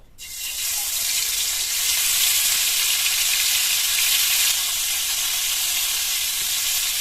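Chicken kathi kebab sticks fry in white oil on a hot tawa, a loud, dense sizzle that surges up within the first second and holds steady throughout, with no talking.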